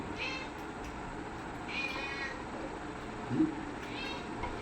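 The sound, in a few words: cat meowing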